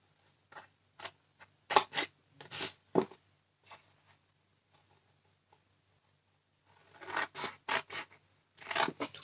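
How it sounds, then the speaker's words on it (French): Scissors snip lengthwise through craft paper in a quiet room while small boxes are made, with a run of crisp cuts, a pause, then another quick series of snips, and no talking. "On vient simplement couper en longueur ici pour l'instant."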